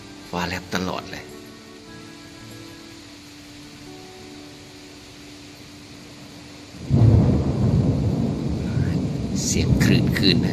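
A night thunderstorm at Sattahip: a sharp close thunder crack and rumble opens, fading to quiet, then heavy rain surges in and pours steadily, with another thunder rumble near the end.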